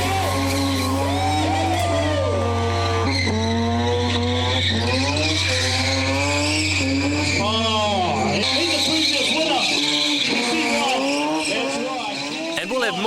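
A car doing burnouts at an import car show, its tyres squealing loud and continuously with wavering pitch over a roaring engine, broad smoky skid noise throughout and some crowd sound in the background.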